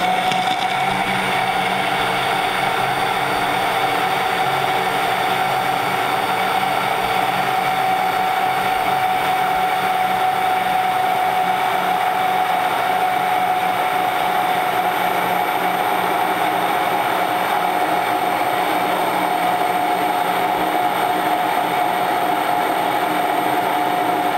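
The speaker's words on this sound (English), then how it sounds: "then we're going to start the hand blender again" A hand blender runs nonstop while oil is slowly drizzled in for homemade mayonnaise, giving a loud, even motor whir with a steady hum and no breaks.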